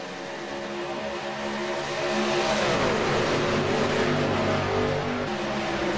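Pack of race cars accelerating off the line at the start of a race, engines rising from a distant drone into a louder, building roar that swells and holds.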